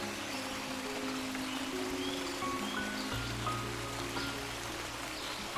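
A soft, steady rush of a flowing stream at a bathing ghat continues throughout, with a low hum entering partway.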